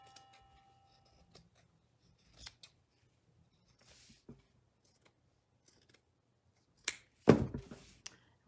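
Scissors snipping up the center of craft material for a St. Patrick's Day gnome, a few sparse, quiet clicks and cuts separated by silence, ending in a louder burst of snipping and rustle.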